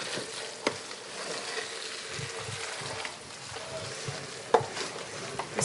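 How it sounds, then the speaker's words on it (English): Eru is stirred in a pot over heat, producing a soft, wet, close sizzling churn with occasional knocks and clinks of the utensil, moderately quiet and without voices. "Just keep mixing"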